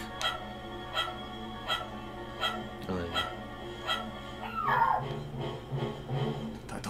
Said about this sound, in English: That dog sounded like it just got put down.